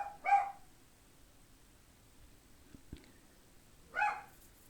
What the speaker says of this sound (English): He's a little tiny dog with a big bark.